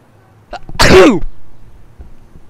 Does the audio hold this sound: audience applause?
no